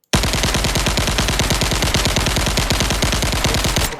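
Rapid automatic rifle fire in an Unreal Engine 5 game, a steady fast stream of loud, close shots repeating evenly for about four seconds with no pauses and no talking.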